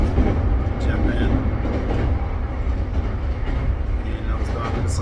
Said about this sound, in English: So this train should take 30 minutes.